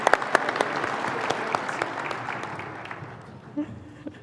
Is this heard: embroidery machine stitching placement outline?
no